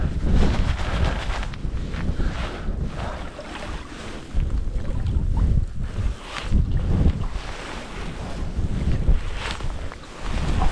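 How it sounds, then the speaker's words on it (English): Strong gusts of wind buffet the microphone outdoors by water during fly fishing, a loud continuous roar that surges and eases, with no talk. "the gusts of wind aren't helping."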